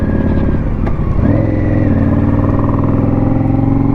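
An Indian Scout Bobber motorcycle engine runs loud and steady while the bike is ridden. The drone is continuous and close, with a brief shift in pitch partway through, like a gear change or a change in throttle.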